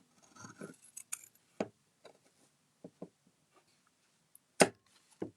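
Sharp scissor snips cut through fabric one after another at an irregular pace, close and crisp with quiet gaps between cuts.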